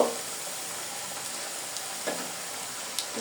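Meat pitha, Bengali dumplings, frying in oil in a pan give a constant close hiss and sizzle, with a few soft clicks of a utensil against the pan and no talking.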